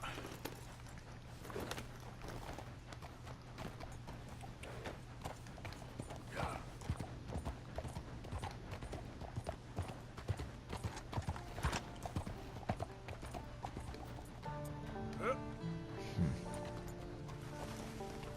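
Horse hooves clip-clop in the Red Dead Redemption 2 video game, a steady run of fairly quiet hoof beats over a low background hum, with a brief whinny and mechanical clicks near the end.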